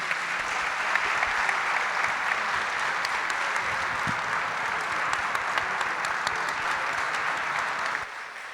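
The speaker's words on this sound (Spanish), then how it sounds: "Con este aplauso damos por finalizada la primera jornada de nuestra 13ª edición de Semana Comex." Audience applause closing the first day of the 13th Semana Comex trade conference, a steady dense clapping from a large room lasting several seconds before tapering off at the end.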